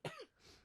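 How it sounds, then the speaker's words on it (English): A single sharp cough from a gaming news podcast host who is sick, close to the mic, with a brief throaty tail and a soft breath afterward. "Sorry about the coughing."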